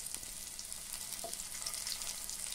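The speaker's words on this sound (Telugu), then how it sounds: "అదే పాన్లో 1 స్పూన్ ఆయిల్ వేసుకొని మనం కట్ చేసుకున్నాం ముక్కలు రౌండ్గా, వాటిని కూడా అందులో పెట్టుకొని ఫ్రై చేసుకో" Round raw banana slices fry in a spoonful of oil in a pan, a steady close sizzle and crackle throughout with no talk.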